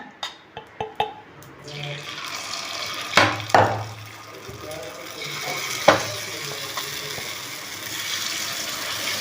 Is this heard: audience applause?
no